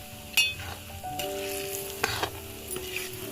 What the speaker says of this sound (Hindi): तो रिफाइंड गर्म होते ही मैंने सूजी को इसके अंदर डाल दिया है।